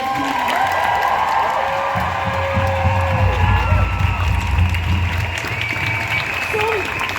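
A rally crowd on Molesworth Street in Dublin, gathered for International Women's Day, gives survivors sustained applause and cheering, with whoops and shouts over a steady roar of clapping.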